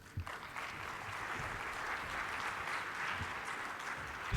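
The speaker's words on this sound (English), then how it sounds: "If you can give them a round of applause." An audience at a plenary session of the ADF 2020 aviation conference applauds the directors, a soft, fairly distant and even patter of many hands sustained for about four seconds, a couple of brief thumps at the start.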